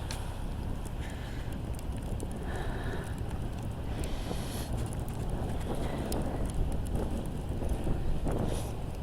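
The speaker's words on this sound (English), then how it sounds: "now and then a gust will come through here. I can hear it in the trees right now" Steady, rushing wind gusts sweep through trees on a bitterly cold day ahead of a blizzard, a continuous broad roar that swells slightly toward the end, with no voices.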